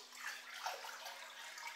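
Water pours steadily into an aquarium to top it up after fitting a Tetra EX 800 Plus external filter, a faint, even splashing rush with no voices.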